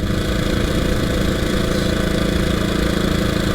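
A 1926 HRD Model 80 motorcycle climbing a hill with its throttle open, its engine roaring loud and close in a steady, continuous drone.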